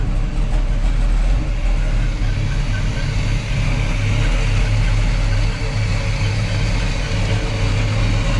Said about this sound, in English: Hear that exhaust. Again, the big block is still cold.